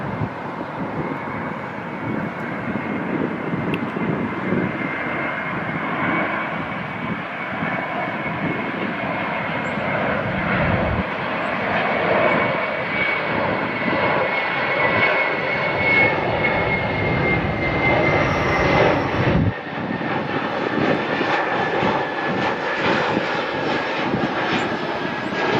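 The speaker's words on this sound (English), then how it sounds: "This is 183, November 183 UW. Coming in from DFW. 22-year-old A321." A 22-year-old Airbus A321 jet airliner inbound from DFW passes near LAX with a loud, sustained engine roar and whine that holds steady for about twenty-five seconds, with no talking.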